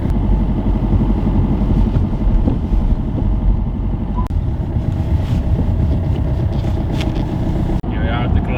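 A rough old hire car engine idling in Turkey, a loud steady low chugging drone running throughout, with brief rattles and a clunk near the end.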